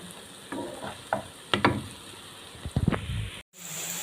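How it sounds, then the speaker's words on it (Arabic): Garlic and onion sauté in the frying pan left from cooking liver, with a soft sizzle under a few spatula scrapes and clatters, then a brief cut before the hiss resumes. "انا كده هشوح الثوم مع البصل 5 دقايق"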